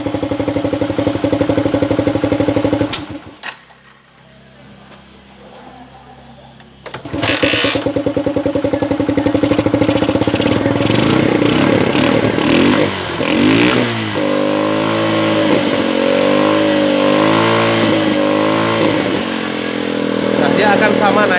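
A motorcycle engine with a vacuum carburetor and cut piston slide idles loudly and steadily, drops briefly quieter, then revs up repeatedly as the throttle is opened, close to the microphone.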